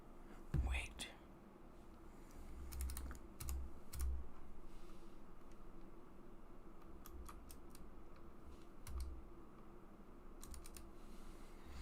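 Someone types on a computer keyboard during a live chat stream, scattered bursts of quiet, close keystrokes with soft, low speech in the background.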